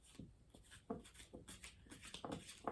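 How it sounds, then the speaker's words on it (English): Soft, close rustling and riffling of tarot cards being shuffled, with quick irregular bursts of papery friction, quiet and without any talking. "I'm going to shuffle"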